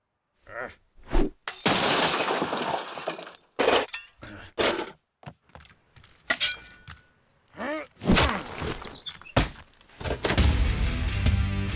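A Grizzly's fire axe smashes through glass, with sharp shattering bursts and heavy thunks scattered among loud, choppy montage sounds and voices.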